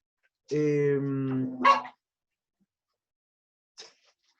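A small dog gives a short burst of barking followed by a single brief yip a couple of seconds later, fairly close and alone with no talk over it.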